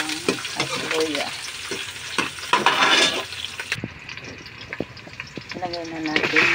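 Onion, garlic and ginger sauté in a hot pan with a strong, steady sizzle and stirring scrapes, while a voice talks intermittently over the frying.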